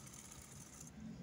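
A sewing machine runs steadily while stitching the side seam of a house dress made from sarong fabric, a faint continuous mechanical whir with no pauses.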